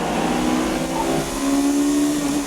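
A Honda S2000 race car accelerates hard along a track, its engine note rising in a loud, continuous buzzing whine with no voices.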